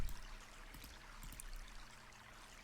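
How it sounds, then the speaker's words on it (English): A fountain in the video game Quest for Glory 2 gives off a soft, steady rush of flowing water, faint and continuous with no voices. "The fountain water is cool and refreshing."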